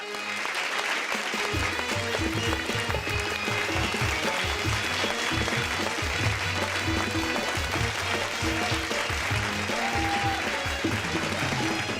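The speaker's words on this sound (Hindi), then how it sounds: "जोरदार तालियां" Loud, sustained audience applause at a Hindi comedy show, a dense steady crowd clapping running the whole stretch with a musical sting or background music layered underneath.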